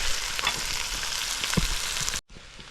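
Spices frying and being stirred in a pan for a Kerala fish curry, a steady close sizzle with a few light scrapes, cutting off abruptly near the end.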